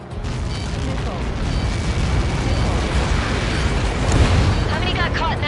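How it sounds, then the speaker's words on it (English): A massive missile impact explosion in the Ace Combat 7 flight combat game, heavy rumbling boom rolling continuously for several seconds with a louder surge near the end, dense low roar filling the whole clip. "How many got caught in that explosion?"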